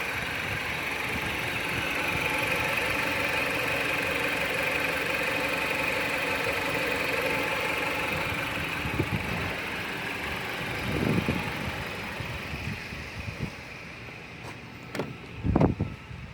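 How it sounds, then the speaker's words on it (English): A 2014 Jeep Patriot Latitude 2WD with the 2.4 L four-cylinder idles steadily up close after cylinder head gasket and oil pump repair, a continuous even hum with a few faint clicks and knocks near the end. "go ahead and let the engine run for at least a good 30 minutes so the engine can build pressure"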